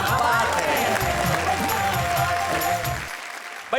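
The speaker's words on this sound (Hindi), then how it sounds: "जरा तालियां बजाइए, ठहाके लगाइए उन कवियों के लिए" Audience applauding poets at a Hindi comedy poetry show, a dense, loud wash of clapping with cheering and voices mixed in, fading slightly before a brief cutoff.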